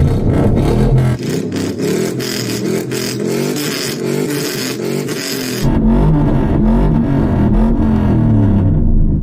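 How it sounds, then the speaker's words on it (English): A big V8 engine with a tuned exhaust revs hard in an off-road truck, a loud, continuous roaring drone that holds and shifts pitch through several surges. "the speed that this big V8 spins up is quite impressive"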